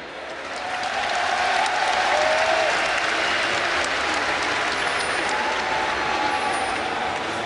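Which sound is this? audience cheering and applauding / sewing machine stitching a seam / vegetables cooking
audience cheering and applauding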